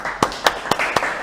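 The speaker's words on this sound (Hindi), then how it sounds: "तालियां बजाओ यार सब" An audience in an accounting class claps, five sharp separate claps in an even rhythm, close and fairly loud with no talking.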